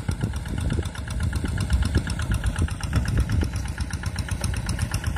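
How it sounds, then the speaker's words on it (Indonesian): A Kubota WG 1000 tractor engine idles steadily and close by during paddy field tillage on tidal land, a continuous low throbbing rumble with a fast, even pulse and no break. "Dengan pakai traktor Kubota"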